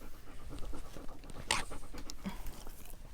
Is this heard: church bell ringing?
no